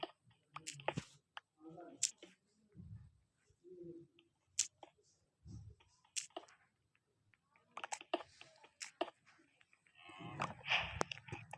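Cows in the video game Minecraft give a few low, quiet moos among scattered gameplay clicks and taps, with brief stretches of quiet between the sounds.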